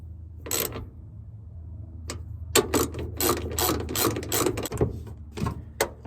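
A ratchet drives a screw into the door strap of a 2003 Honda Element, clicking in quick bursts of pawl ticks that grow denser and busier as the screw tightens, close and clear.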